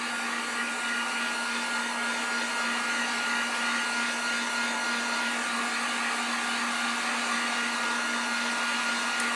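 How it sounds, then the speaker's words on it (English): A heat gun drying acrylic paint on a spring sign or door hanger, a steady loud whirring fan roar with a constant tonal hum that runs unbroken throughout, with no talk. "Let me just quickly heat gun."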